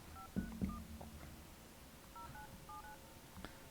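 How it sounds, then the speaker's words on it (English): A telephone keypad beeps through a series of dialing tones, a few separate presses spaced irregularly, quiet and close against a faint background hum. "So let's call Nico."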